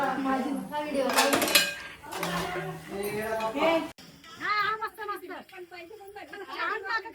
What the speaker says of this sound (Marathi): कसा वाटतं भांडी घासून?